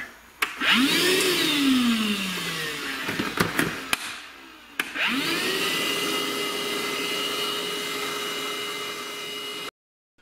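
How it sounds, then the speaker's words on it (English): A vacuum motor whines up to speed, cuts out briefly with a few knocks, then starts again and runs loud and steady before stopping abruptly, used while cutting stripped spark plug threads in an aluminum cylinder head. "so let's turn on our vacuum and get to cutting"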